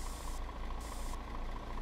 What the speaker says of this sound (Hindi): ये है गाइस इसका कुछ इंजन साउंड, मैं आपको सुनाता हूँ।